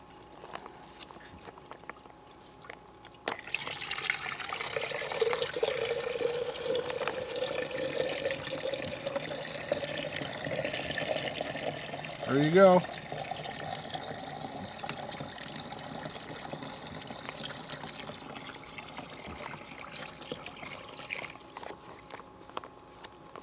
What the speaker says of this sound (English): this one will fill your water bottles